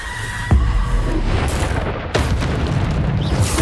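A Bombarda spell explosion in the video game Hogwarts Legacy booms loudly up close, with a second blast and rumbling magical effects and crackle in a continuous, busy game soundscape.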